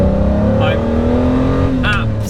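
Ferrari Testarossa 512 TR, a mid-engined 4.9 litre flat-12, cruising with a steady loud engine drone and a tone that rises slowly, a brief chirp over it, recorded close from inside the car.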